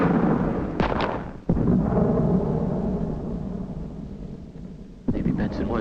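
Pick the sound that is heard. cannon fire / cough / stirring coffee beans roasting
cannon fire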